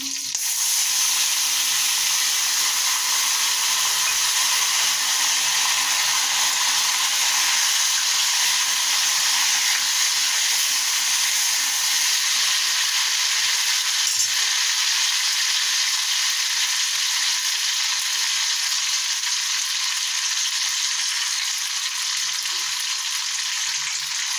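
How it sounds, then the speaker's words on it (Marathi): Loud, continuous hot-oil sizzle of urad dal in tempering oil, crackling steadily and close up, with no talking over it. "हा उडदाची डाळ घेतलेला आहे तो या फोडणीत घालायचा"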